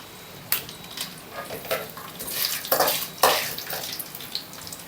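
Curry leaves and a dried red chilli hit hot oil in a pan with urad dal for a Telugu-style bhindi fry, giving a steady close sizzle broken by a few sharp crackles and pops, with no talk.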